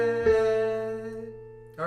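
A single piano note from The Star-Spangled Banner rings out and slowly decays, clear and close, before a voice starts speaking at the very end.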